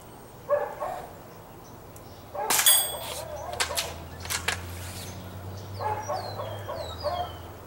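Two shots from a .22 bolt action rifle with Aguila low power ammo ring off a 6-inch steel gong target at 25 yards, each a sharp metallic clang with a short ringing tail; birds chirp faintly in the background.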